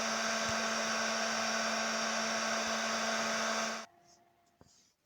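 A hot air rework nozzle at about 220–230 degrees blows onto a chip on a PS3 Slim board, giving a loud, steady whooshing hiss with a faint hum that cuts off abruptly near the end.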